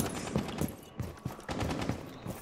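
Rapid bursts of gunfire in Tom Clancy's Rainbow Six game, a string of sharp shots and fusillade-like volleys at moderate loudness, with no talking.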